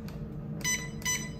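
An oven timer is set to 35 minutes for baking homemade white bread, giving two short, close electronic beeps a moment apart over a low steady hum.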